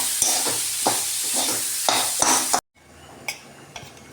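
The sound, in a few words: mixing potato filling for dosa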